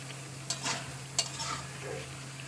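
Taro (kochu) sautéing in a pan for a fish curry, a low steady sizzle under a constant hum, with two sharp scrapes of a spatula against the pan, close and without talk.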